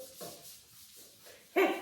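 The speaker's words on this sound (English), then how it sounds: "The dog is barking." A single sharp dog bark near the end, preceded by a few softer, muffled yelps or whimpers in a quiet room.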